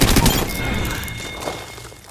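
Rapid gunfire bursts from an Apex Legends firefight, loud and dense at the start, then trailing off into scattered thuds and softer distant shots.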